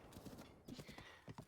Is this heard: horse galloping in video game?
yes